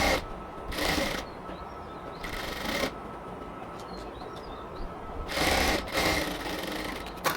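Sewing machine running double stitches along a cotton dress, heard in three loud bursts of whirring with quieter gaps of workshop noise between them.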